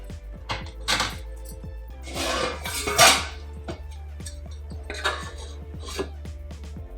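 Clattering metal cookware as a tight lid is set on a pot of mint pulao rice cooking over a medium flame, a few sharp clanks and knocks over a steady low hum, close and moderately loud.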